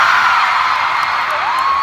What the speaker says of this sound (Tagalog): ang lakas ng mga sigaw talaga